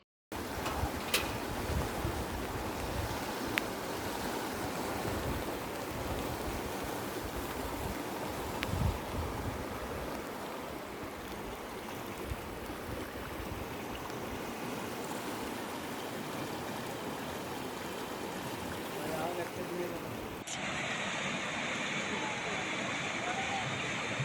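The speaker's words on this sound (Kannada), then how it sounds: "ಶೃಂಗೇರಿಯ ಶಾರದಾಂಬೆ ತಟದಲ್ಲಿ ಹರಿಯುತ್ತಿರುವ ತುಂಗಾ ನದಿ" The Tunga river runs in flood at Sringeri after heavy rain, a loud, unbroken rushing roar of water that holds steady for the whole stretch.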